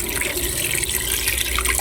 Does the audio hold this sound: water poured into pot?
yes